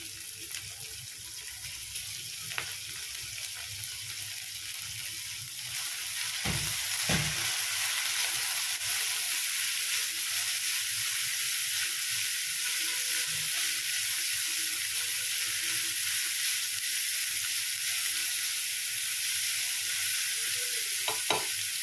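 Chopped capsicum and other vegetables stir-fry in a pan for a roti roll filling, a steady close sizzle with occasional stirring knocks, growing a little louder partway through, with no voices.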